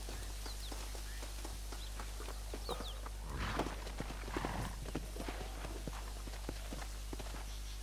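Steady clip-clop of horse hooves in Red Dead Redemption plods along at a walking pace over a constant low hum, with occasional faint bird chirps.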